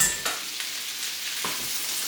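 Shrimp with garlic sizzle and crackle in a hot pan, a steady frying hiss broken by a few stirring scrapes, close and fairly loud with no talk.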